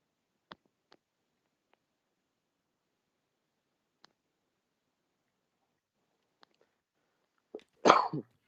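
A single harsh cough bursts out near the end after a few faint clicks and a long stretch of near silence.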